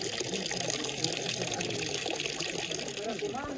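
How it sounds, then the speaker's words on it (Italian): Water pours steadily from a two-basin village fountain at a mountain farmstead, a continuous splashing trickle close by, with a voice talking briefly over it. "La fontana."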